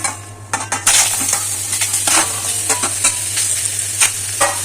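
Chicken sizzles in oil in a hot wok while being stirred, with a loud, continuous fry broken by sharp scrapes and clinks of the utensil against the pan. Nobody speaks.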